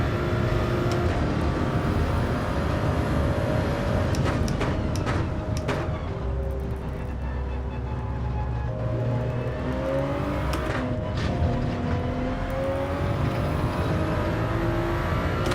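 A Toyota Supra races in Gran Turismo 7, its engine revving and shifting with rising and falling whine over continuous road and tire noise, other cars joining in at times, loud and constant.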